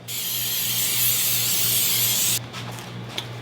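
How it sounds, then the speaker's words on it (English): A steady hiss from an aerosol can of cooking oil sprayed onto pastry turnovers, close by, lasting a couple of seconds, then cutting off and leaving faint clicks and handling noise. "now I'm going to spray it with a little spray oil."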